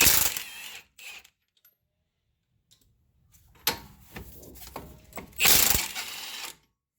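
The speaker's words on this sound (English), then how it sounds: "we'll take out the pinch bolts here." A ratchet works on the knurled, press-fit strut pinch bolts of a Dodge Caravan, giving bursts of close, dry clicking and metallic clatter separated by short pauses, then a louder run of ratcheting near the end.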